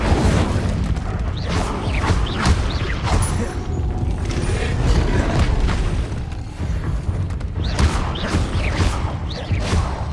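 An Incendio fire spell effect from the video game Hogwarts Legacy bursts out in repeated booming whooshes, a dense, loud rumble of blasts and impacts that continues steadily without speech.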